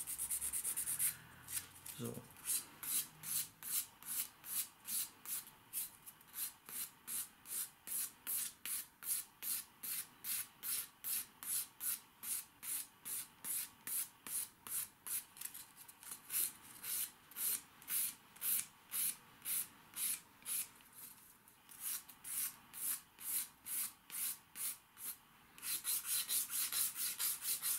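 A nail file works an artificial fingernail in a steady run of rapid, rhythmic back-and-forth rasping strokes, close and crisp, with a brief pause near the start and a voice speaking briefly.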